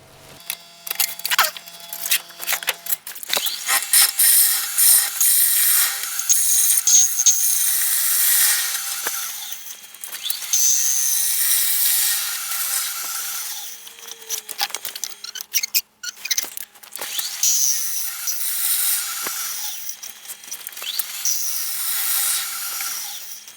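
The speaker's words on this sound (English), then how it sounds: "now I'm going to have to use the bowl bottom gouge to clear out the rest of this wood" Bowl gouge cutting green wood on a lathe while finish-turning a roughed-out bowl: bursts of scraping, hissing shavings sound over a spinning workpiece, with irregular stops and restarts, close and fairly loud.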